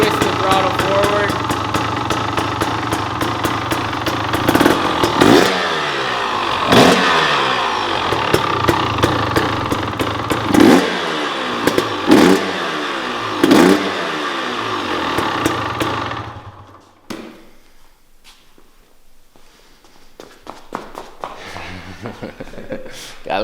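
Stock-exhaust 2023 KTM 300 XC TBI two-stroke dirt bike at cold start, a loud, raspy engine idling with repeated sharp throttle blips, then cutting off abruptly near the end, leaving quiet background.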